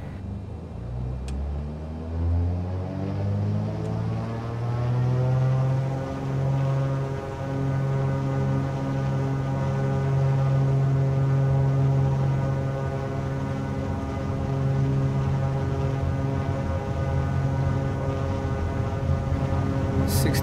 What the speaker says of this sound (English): So we'll just put in the power and take off on runway 10 towards Pulau Redang.